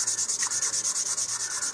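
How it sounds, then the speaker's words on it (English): Close, rhythmic back-and-forth rubbing of 400 grit sandpaper on a model rocket, with about a dozen quick, even strokes in a row and no voices. "give it an additional sanding with some 400 grit sandpaper"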